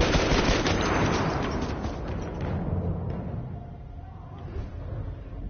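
Gunfire in the Battlefield 1 video game: dense, rapid shooting that is loud at first, then thins into quieter scattered shots and rumble.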